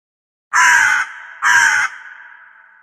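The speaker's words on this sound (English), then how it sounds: "Crow." A crow gives two loud, harsh caws in quick succession, each about half a second long, standing alone with no other sounds around them.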